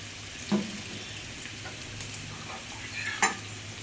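Potato and papaya frying in a pan for a shrimp and lentil dish, a soft steady sizzle in the background with a few brief clinks of a utensil against the pan.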